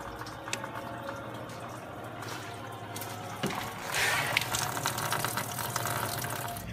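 Coolant pouring out of the radiator of a Ford Explorer with a 5.0L engine, a steady gushing and splashing liquid flow, close up, swelling slightly louder partway through.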